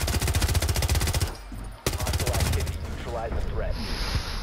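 Rapid automatic gunfire from a Rainbow Six Siege match hammers in close, even bursts, pausing briefly before a sharp shot and further firing. Voices talk faintly underneath.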